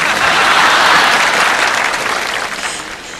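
Audience applause at a concert of classic songs: dense, loud clapping right from the start that slowly thins and fades over a few seconds, with no speech.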